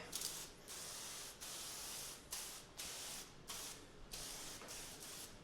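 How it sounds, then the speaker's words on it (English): Repeated bursts of fine hissing mist from a spray bottle onto a car panel during paint protection film installation, each lasting under a second with brief pauses between, close and steady. "Now give the panel its final spray."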